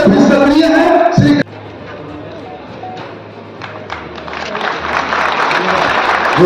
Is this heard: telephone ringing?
no